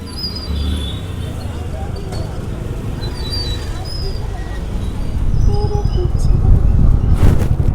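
Road traffic on a cloudy hill-station road in Mussoorie, a steady rumble of vehicles close by with a few faint chirps, growing louder toward the end.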